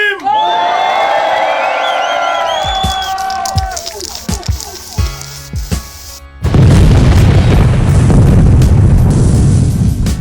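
Loud, sustained crowd cheering and whooping at a rap battle in Saint-Malo erupts partway through, taking over after a stretch of tonal music and scattered thumps.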